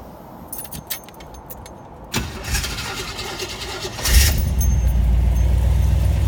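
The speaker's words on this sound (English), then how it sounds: "Car fires right up, runs great." Keys jingle, then a car engine cranks and fires up, settling into a steady low idle that runs on to the end, close and fairly loud.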